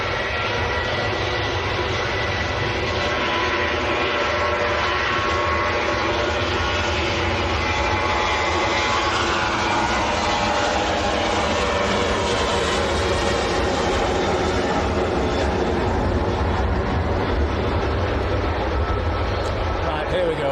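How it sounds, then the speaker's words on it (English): A Ryanair airliner on its take-off roll at Manchester Airport gives a loud, continuous broadband engine roar that holds steady throughout, with voices faintly beneath. "Just holding while the Ryanair rolls."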